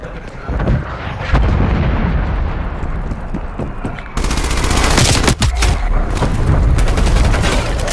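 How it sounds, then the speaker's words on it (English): Artillery strike explosions in Call of Duty: Black Ops Cold War, a loud continuous barrage of booming blasts and crackling gunfire that intensifies sharply midway, dense and close with no talk. "Artillery inbound."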